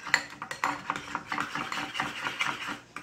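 A spoon scrapes and stirs grated coconut into a soft mashed mixture in a bowl, giving a steady run of close, clicking scrapes with no talking.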